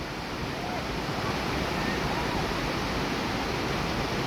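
Constant rushing of water flowing out of a mountain spring, a dense unbroken hiss and roar close by, steady from start to finish with no pauses.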